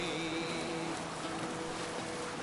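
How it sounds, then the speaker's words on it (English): Steady rain hisses continuously in a game world depicting cold English weather, a dense, even wash of falling drops with a faint low hum beneath and no voices. "Cold and raining at all times."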